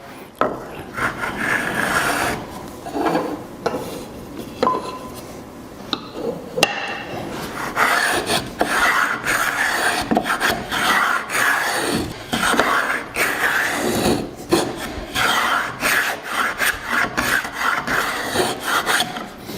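A wooden plow plane cuts a compound edge profile into a wood board, with repeated rasping strokes close by, each stroke a scraping swish followed by short pauses and light knocks.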